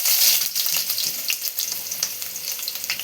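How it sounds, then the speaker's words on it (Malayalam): Sliced onion sizzles in hot coconut oil in a pan, a loud, close, continuous frying crackle with small spits and pops and no voices. "ഇതിലോട്ടൊരു ചെറിയ സവാള സ്ലൈസ് ചെയ്ത് വെച്ച് ചേർത്ത് കൊടുക്കാം"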